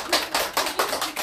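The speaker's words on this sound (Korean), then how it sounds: "긴장하지 말라고 박수로" Church congregation at a Sunday worship service clapping in encouragement, a short burst of dense, rhythmic hand claps that swells in pulses, fairly close and without speech.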